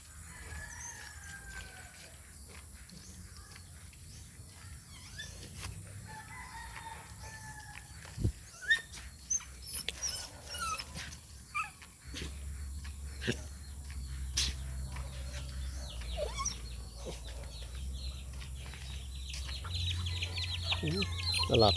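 Chickens clucking and a rooster crowing at a distance amid insect chirps, with brief talk and louder rumbling background later.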